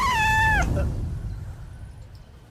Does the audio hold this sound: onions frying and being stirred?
no